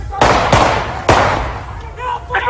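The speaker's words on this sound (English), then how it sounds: "Police action shooting!" Police gunfire during the arrest of a car thief who wrecked patrol cars with a stolen truck: three loud, sharp shots ring out close together, followed by shouting voices.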